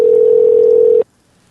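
A steady, loud telephone dial tone hums for about a second while a landline call is placed, then cuts off abruptly into near silence.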